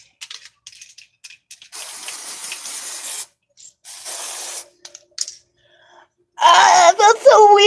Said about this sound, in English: a spray that I'm spraying in my hair